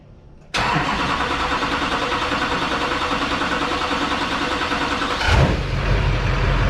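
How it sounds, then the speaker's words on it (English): A 2005 Duramax diesel truck engine cranks and catches after a fuel pressure regulator replacement, then settles into a loud, steady, deep idle, with a sharp surge of revving near the end. "The truck sounds so much more deep, probably because of that boost leak I fixed."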